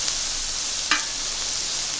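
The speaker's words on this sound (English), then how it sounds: "we're just going to cook this until the onions are translucent" Onions sizzle steadily in butter in a hot frying pan, a close, even crackle with a brief sharper pop midway.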